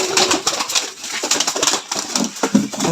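Racing pigeons at a loft and flying zone on a pigeon farm in Ghatail, Tangail, make a busy close-up stir of soft cooing and fluttering wing flaps that overlap continuously.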